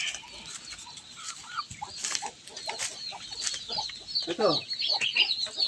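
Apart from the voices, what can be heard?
chickens clucking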